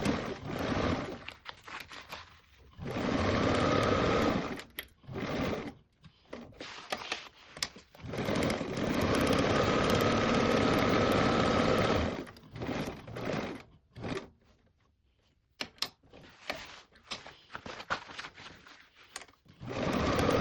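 A sewing machine stitches a seam with a 5/8 seam allowance around a tote bag pocket panel, running in bursts of rapid mechanical whirring separated by short pauses, close and clear.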